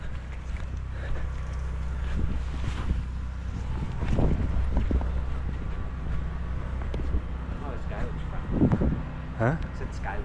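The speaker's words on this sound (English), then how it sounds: "Wind's about to hit you in the face. I can feel it coming." Steady wind rushes and buffets a microphone outdoors during window washing, with gusts swelling over a constant roar and people talking faintly beneath it.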